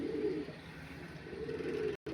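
Kalanka pigeons coo in a low, continuous throaty rumble at close range, ending abruptly in a short cut to silence.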